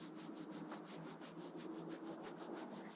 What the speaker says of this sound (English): just giving the knees a bit of a rub